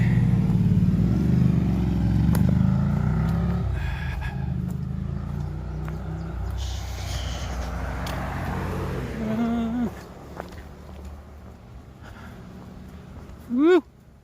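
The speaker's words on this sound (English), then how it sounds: "A lot of traffic." Road traffic passing at Neel Gap, a mountain pass on the Appalachian Trail near Blood Mountain, with cars and motorcycles rumbling by steadily at moderate distance and fading in and out.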